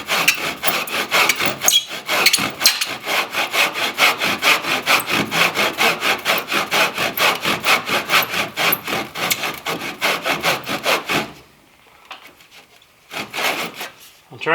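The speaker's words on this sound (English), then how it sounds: "those saw teeth will follow right into that beautifully" A hand saw cuts a pine timber-framing joint with steady, rapid back-and-forth strokes, close and loud, then stops briefly before a few more strokes at the end.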